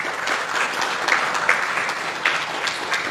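Applause from an audience at a devotional discourse, a moderate, continuous patter of many hands with a few sharper individual claps standing out.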